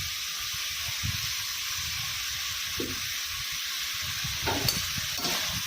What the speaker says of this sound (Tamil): கேப்சிகம் நீட்டமாக கட் பண்ணி வச்சுருக்கிற கேப்சிகமும் இதோட போட்டு நம்ம வதக்கிக்கிறோம்